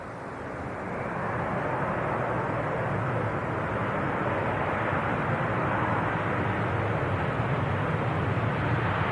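A fixed-wing airplane roars through a landing at an airport, a loud, continuous broadband engine and air rush that holds steady for several seconds after a quick rise, with no talk over it.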